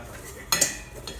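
Batter for Food for the Gods bars being mixed in a bowl: a couple of short utensil scrapes and clinks against the bowl, close and fairly quiet, with no talking.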